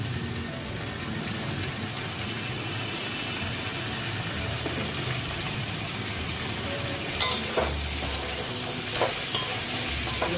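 A paste of white mustard, black mustard and melon seeds fries in a pan for shukto, giving a constant close sizzle with occasional scraping stirs and clinks near the end.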